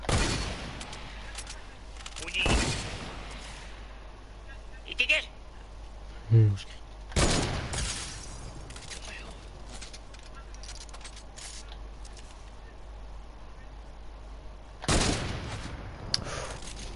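Gunfire in a shooting video game comes as several sharp bursts and volleys spread across the stretch, loud against a steady background hum, while players talk in French between the shots.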